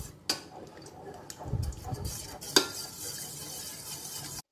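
A spoon stirs flour and water batter in a pan, with soft, wet scraping punctuated by a couple of sharp clinks against the pan's side. The sounds are fairly close and faint.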